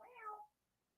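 A single close cat meow, bright and drawn out over about half a second, then quiet room tone.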